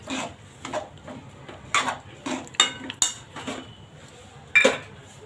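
A metal spoon scrapes and clinks against a pan while mixing reddish organic jaggery for sesame laddoos, making irregular, close scratchy strokes with brief pauses between them.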